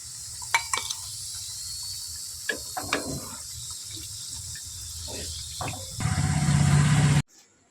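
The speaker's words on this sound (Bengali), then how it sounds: "টিকিয়াগুলো কিন্তু একেবারে ভাজা হয়ে এসছে" Chicken tikia patties frying in hot oil give a steady close sizzling hiss dotted with small pops and crackles, then cut off abruptly near the end.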